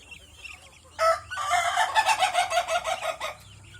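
A chicken fed coarse rice bran lets out a loud, harsh burst of rapid clucking and squawking, lasting about two seconds, close by and alone.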